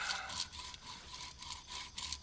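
A saw cuts a circular stop cut into a wooden mallet handle with light pressure, making close, rhythmic rasping strokes, roughly four or five back-and-forth passes with no talking.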